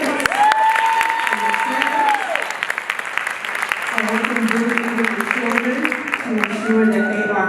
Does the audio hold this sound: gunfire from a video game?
no